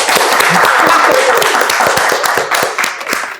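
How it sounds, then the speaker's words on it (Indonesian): A studio audience at an Indonesian talk show claps in a quick burst of scattered, crisp hand claps that thin out toward the end. "Tepuk tangan dulu bang, tepuk tangan."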